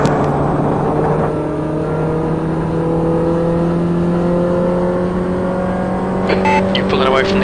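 A Mini race car engine held at maximum revs in fourth gear on the Hockenheim 1977 layout in a racing game, a loud, steady, high-pitched engine drone with sustained harmonic whine, ending with brief clicky game sounds while someone talks.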